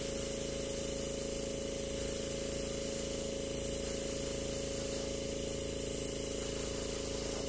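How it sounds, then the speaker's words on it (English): An airbrush sprays acrylic paint in a steady, close, continuous hiss with a constant compressor hum beneath, unbroken throughout and with no talking. "And I'm spraying paint everywhere."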